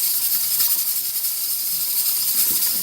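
Potatoes fry in a pot of oil as fries, giving a steady, bright, close sizzle that holds evenly for a few seconds with no voices.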